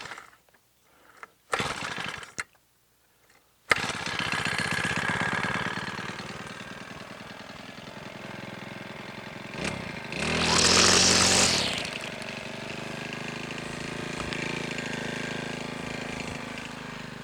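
A small garden engine, sluggish after the winter, coughing through a few failed pulls before catching and running with a rough, steady idle that swells briefly when revved.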